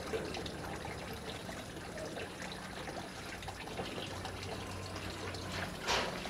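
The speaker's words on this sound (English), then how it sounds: "This second siphon is flushing and it will flush to fill up" Water from an aquaponics siphon flushes steadily into a gutter in a strawberry growing system, a soft continuous trickling and splashing with a brief brighter gurgle near the end.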